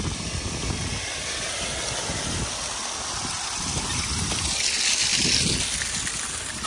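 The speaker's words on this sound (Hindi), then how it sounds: "इसलिए पानी चल रहा है, मोटर चल रही है।" Water gushes steadily from a motor-driven pump pipe into a paddy field, a continuous broadband rush with a low engine-like rumble beneath, loud and close throughout.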